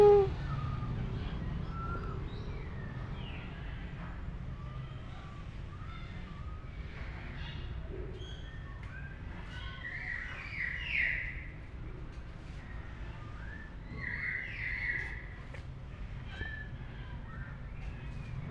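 A myna bird (beo) gives scattered whistles, squawks and chirps at moderate volume over a constant low background hum, with occasional short calls and brighter whistled notes repeating through the stretch.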